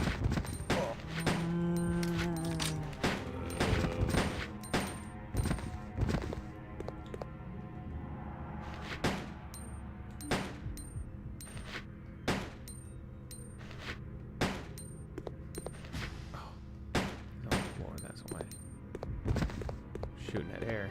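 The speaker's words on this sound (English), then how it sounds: "Shooting at air." Gunshots fired in Resident Evil Code: Veronica X, sharp repeated reports at irregular intervals across the whole stretch, loud and close, with game ambience and occasional talk in between.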